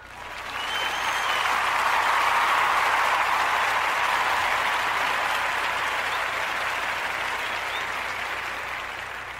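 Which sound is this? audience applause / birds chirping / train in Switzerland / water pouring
audience applause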